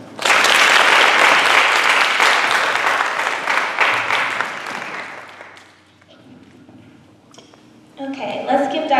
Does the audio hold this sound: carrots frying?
no